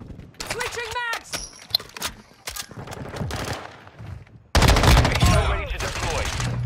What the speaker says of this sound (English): Switching mags.